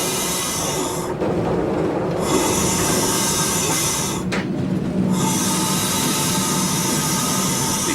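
A Portuguese railways interregional train runs along single track: a loud, continuous close rumble and hiss of wheels and carriages, with brief shifts in tone as it passes.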